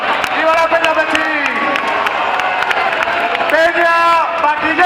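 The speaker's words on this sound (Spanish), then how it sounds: "Un aplauso fuerte para los cumpleañeros." Festival crowd at the Fiestas del Pilar in Zaragoza applauding and cheering for birthday celebrants, loud clapping and whoops mixed with shouting voices and a sustained chanted call over the top.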